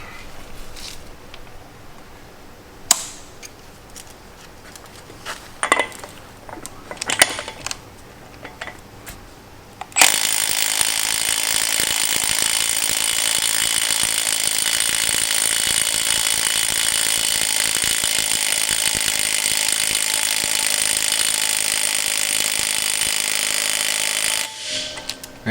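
After a few scattered clicks and knocks, a Milwaukee M12 stubby 1/2-inch impact wrench hammers continuously for about fifteen seconds during a torque test, a loud, rapid, rattling impact burst close by, then stops.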